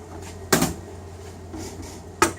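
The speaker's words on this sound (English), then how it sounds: "So if you open this little spring-loaded guy, you can flip open the top." Spring-loaded top of a Wright Line 2629 alphameric card punch flipped open: two sharp mechanical clacks about 1.7 seconds apart, close and fairly loud over a low hum.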